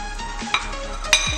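A spoon stirs chicken marinade in a bowl, producing close, wet scraping swishes with a couple of sharp clinks against the bowl's side.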